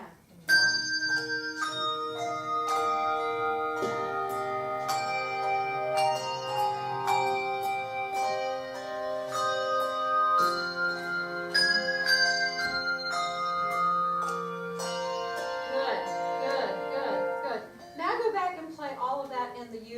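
Handbells ring through a group critical-listening exercise, many overlapping tones sustained and layered at a steady, moderate loudness, with a descending run near the end.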